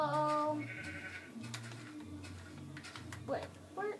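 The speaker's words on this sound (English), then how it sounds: "wait, what is the sheep?" Sheep bleating in the Minecraft video game, several short nasal bleats that repeat under a voice talking over the game sounds.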